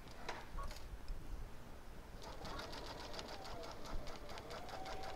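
A sewing machine stitches across a cuddle quilt with a steady, fast mechanical whir and rapid needle ticking. It is close and continuous, with faint handling noise and a voice talking softly underneath.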